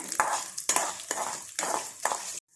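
Ginger dropped into a pan of frying chana dal and urad dal, giving repeated bursts of crackling sizzle with stirring scrapes about every half second, close and moderately loud, cutting off abruptly at the end.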